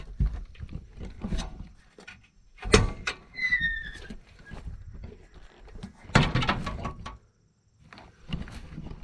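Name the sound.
closing Expedition One swing-out bumper with latch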